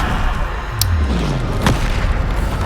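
A Bombarda spell explosion in Hogwarts Legacy, a deep booming blast with a sharp crack over a steady rumble of game ambience and music, near and loud.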